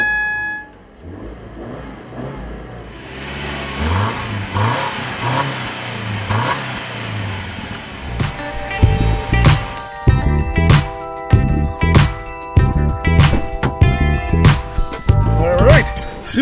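A Subaru Impreza with a 2-liter horizontally opposed boxer engine pulls away on streets in an industrial part of San Francisco, its engine revving and rising through gears, loud and close, with someone talking over it.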